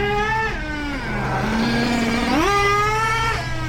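A Hobao Hyper7 .28 nitro RC buggy engine revs in short, high-pitched buzzing swells. The whine dips, holds, then climbs sharply again, close and fairly loud with no talking.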